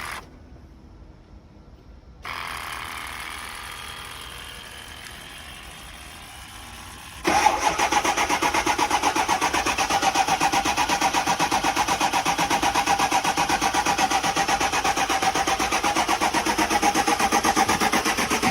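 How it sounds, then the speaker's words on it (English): A car at a towing auction yard cranks for several seconds, then catches and runs with a loud, steady engine note close by; no talking. "She's trying to get it started."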